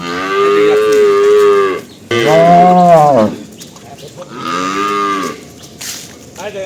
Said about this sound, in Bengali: আমি গরুটা খুলে হাঁটা দেখাচ্ছি আপনাদেরকে